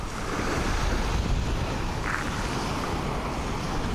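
Steady, blustery seaside wind in Croatia roars across the microphone with a broad hiss, continuous and loud.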